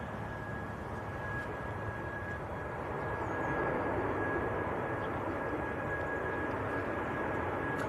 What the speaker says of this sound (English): Ryanair just about to touch down. This is in from Berlin in Germany.